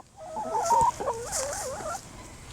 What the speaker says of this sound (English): So the chickens scratch away the dirt and then have a look